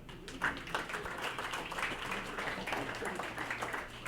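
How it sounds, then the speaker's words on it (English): A banquet crowd claps steadily throughout, a dense, even wash of applause heard from within the room. "Give them a nice round of applause."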